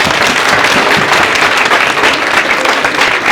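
An audience at a college show at Shaheed Bhai Mani Singh Khalsa College, Longowal, claps loudly and densely. The applause is sustained and even throughout and sits close, with no break.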